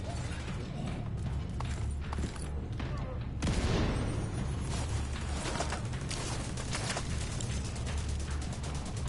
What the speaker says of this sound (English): I like how they blow up with fireworks now